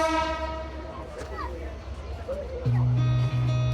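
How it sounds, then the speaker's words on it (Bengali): 828 Down Ruposhi Bangla Express departs Dhaka's Kamalapur station on its inaugural run, its horn blaring as a sustained low tone in the final second, mixed with rumble and a singing voice with music. "এইমাত্র ঢাকা কমলাপুর রেলওয়ে স্টেশন ছেড়ে গেল 828 ডাউন রূপসী বাংলা এক্সপ্রেস ট্রেনটি"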